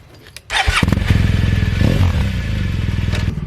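A BMW GS motorcycle engine fires up and settles into a steady, close, rumbling idle with a pulsing low throb and some mechanical clatter, loud and continuous with no talking.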